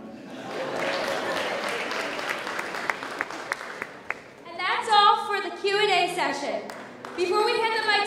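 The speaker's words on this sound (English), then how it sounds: "let's give another round of applause to the 2018 Mr. Harriton contestants" A school pageant audience applauds the Mr. Harriton 2018 contestants with a loud, dense burst of clapping that tapers off, followed by people talking.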